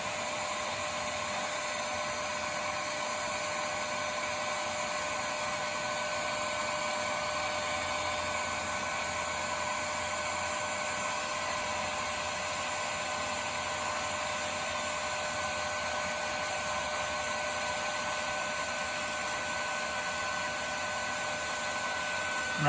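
A heat gun shrinking a butt connector on 1973 Mustang horn relay wiring, a constant whining blower hum held steady the whole time, close, with no talk over it.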